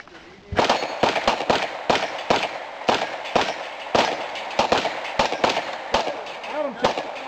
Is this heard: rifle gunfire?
yes